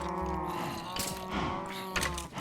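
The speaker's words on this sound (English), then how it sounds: "Cows are super loud." Cows mooing in the modded Minecraft game Feed the Beast, with loud drawn-out low moos overlapping one another near a blast furnace and quarry setup, no talk.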